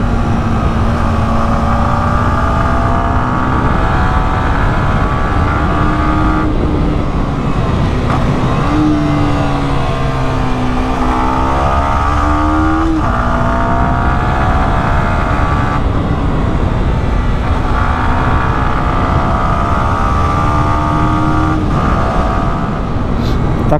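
A Yamaha YZF-R125 Monster Energy motorcycle's 125 cc engine with variable valve timing drones loudly and steadily while riding, its pitch rising and falling with the revs.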